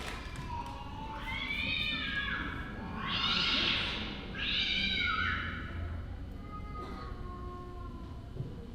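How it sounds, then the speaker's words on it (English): Cats meow in a courtyard, several drawn-out, wavering cries, one or two loud and close, over a low background rumble with an occasional soft thump. "I've been listening to the cats in the courtyard."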